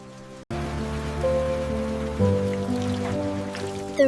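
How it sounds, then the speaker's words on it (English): Steady rain falls on a surface, a dense, even wash of patter that starts abruptly after a brief pause and holds at a constant level, with soft tonal hum layered beneath. "The rain is a beautiful mystery."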